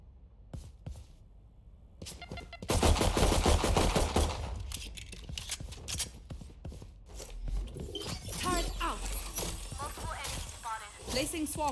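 Gunfire from the Valorant video game, played on the Split map, sounds as dense bursts and rapid shots loud in the middle, with scattered ability effects and clicks around them and occasional voices.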